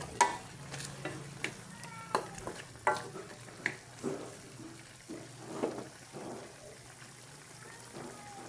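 A ladle stirs native chicken tinola in a pot, with faint scraping knocks at an irregular pace over a quiet simmering hiss, soft and close.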